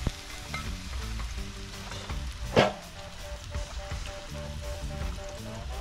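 Vegetable fritters and escabeche fish with plantain fry in hot oil for dinner on a river trip, a steady close sizzle with a brief louder crackle burst midway, no talk over it.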